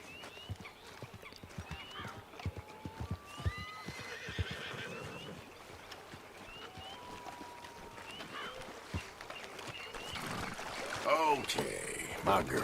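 A horse whinnies several times amid clip-clopping hooves and ambient outdoor noise in Red Dead Redemption 2, with a louder burst of activity near the end.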